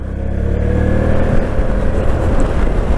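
A KYMCO AK 550i maxi-scooter with a Euro 5 engine accelerates on a test ride, its loud, close engine droning and rising steadily with road rumble and no pauses.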